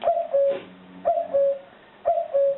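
Two-note electronic cuckoo call from a Cobalt Speechmaster talking calendar clock, repeating three times at an even pace, clear and fairly close, with short pauses between calls.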